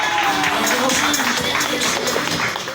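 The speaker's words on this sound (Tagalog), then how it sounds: "isang malakas na palakpakan naman dyan" Applause and cheering from an audience at a child's first birthday party held at a Jollibee restaurant, a steady dense patter of claps sustained throughout, fairly loud and close, with some voices mixed in.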